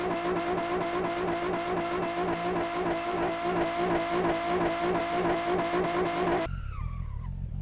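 A car in a video game accelerates hard with its tires burning, giving a loud, continuous, pulsing engine roar that cuts off abruptly near the end.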